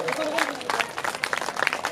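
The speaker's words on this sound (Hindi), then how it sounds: "एक बार पहले तो दीदी के लिए बहुत जोरदार ताली बजा करके स्वागत" An audience at a Bhagwat Katha religious discourse applauds to welcome someone speaker, a dense, steady patter of clapping from a crowd that lasts throughout, with voices mixed in.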